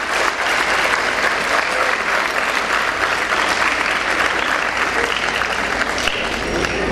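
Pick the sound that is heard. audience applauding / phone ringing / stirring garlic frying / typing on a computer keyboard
audience applauding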